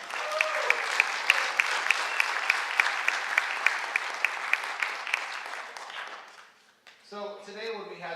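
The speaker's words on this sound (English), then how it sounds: "A round of applause, please." A school audience gives a brisk round of applause for a student at a high school mural project, with dense clapping, a few sharp louder claps, then a fade into silence before a voice starts talking.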